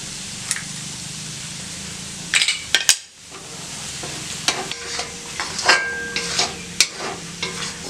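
Three eggs cook with cauliflower in a lightly oiled pan, giving a low steady sizzle. A spatula stirs and scrapes in clear, close clattering strokes, and no one speaks.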